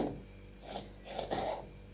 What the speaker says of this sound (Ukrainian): Для приготування цього смачного салату я беру половинку синьої цибулі і нарізаю